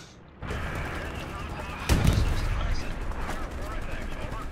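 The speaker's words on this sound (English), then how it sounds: "I just chucked a grenade in those woods" A grenade explodes in the online war shooter Hell Let Loose: a single heavy blast bursts out partway through and leaves a rumbling tail over steady battlefield noise and scattered gunfire.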